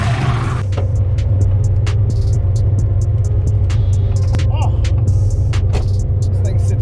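Car fitted with an old rusty turbo driving, a steady low engine drone with road rumble from inside the cabin, alongside repeated clicking ticks.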